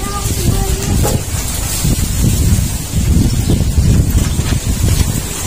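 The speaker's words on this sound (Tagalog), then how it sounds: "Grabe, lakas ng hangin" Strong wind blows hard and close outdoors, a loud continuous buffeting roar with rustling gusts that swell and ease, with brief voices beneath it.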